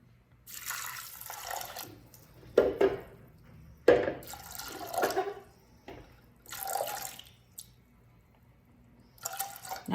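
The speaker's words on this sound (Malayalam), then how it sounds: "ഞാൻ 1 കപ്പ് വെള്ളം ഒഴിച്ചു." Water pours in uneven splashy bursts into a pressure cooker holding dal with salt and cumin seed, with gurgling streams and brief pauses between pours, close by and without talk.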